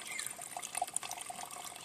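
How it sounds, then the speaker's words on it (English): Water drains steadily from laboratory glassware during a chemistry preparation, a continuous close trickling and splashing with no talk over it. "I am just draining this off, all the water."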